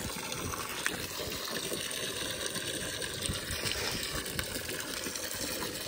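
Water gushes steadily from a hose or tap into a trough for alpacas outdoors, a loud, continuous rushing and splashing fill that stays constant throughout.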